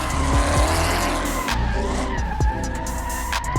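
A big truck slides sideways through tight turns with loud tire squeal and skidding over a steady roaring engine, with brief gear-change dips in the engine note.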